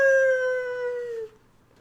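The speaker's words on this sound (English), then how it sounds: "then you hear Wolf howl." A single wolf howl rings out clearly, a sustained tonal cry that holds steady then slowly glides down and fades after about a second, with nothing else heard around it.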